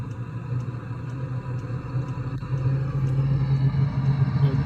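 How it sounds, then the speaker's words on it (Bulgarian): An Eberspacher D5W diesel heater in a Mercedes Sprinter or Vito van runs just after igniting, giving a steady low rumbling hum that grows slightly louder, with faint regular ticks over it. "Печката запали,"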